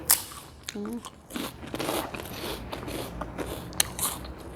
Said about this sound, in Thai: มาเลยแคบหมูกรอบๆเลยเหมือนนี่นะ ทอดเอง